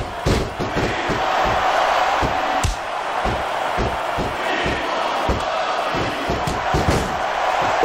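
Dense wrestling arena crowd roars steadily throughout a women's match between Joy Giovanni and Kristal, with sharp thuds and slams punching through the constant loud cheering.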